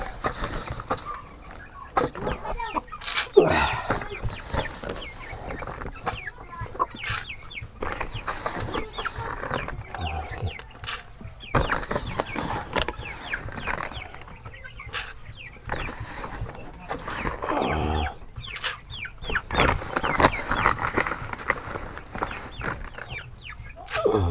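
Large Brahma chickens, including a big rooster, cluck and call at a farm during feeding with Galimax 3000 feed, a busy, steady flock chatter running throughout at moderate loudness with no talking.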